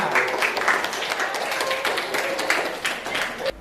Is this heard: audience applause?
yes